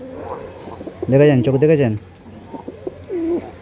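Racing pigeons coo in a loud, close burst of throaty, rolling calls, with softer coos before and after while someone talks nearby.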